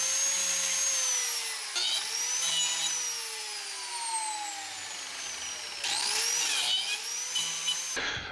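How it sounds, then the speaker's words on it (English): A biscuit joiner whines at high speed while cutting slots in wood for a charcuterie board, with repeated bursts of motor noise whose pitch sags and spins down between cuts, close and alone. "And I joined it with the biscuit joiner."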